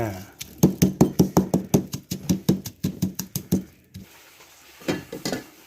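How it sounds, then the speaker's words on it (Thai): A pestle pounding ginger and other aromatics in a mortar: a quick, regular series of about fifteen hard thuds, then a pause and a few more blows, with someone talking over parts of it. "นี่นะครับเดี๋ยวเรามาโขลกกัน"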